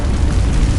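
The Confringo fire spell from the Hogwarts Legacy video game lands as a loud, close, booming blast with a heavy low rumble that fills the whole short moment.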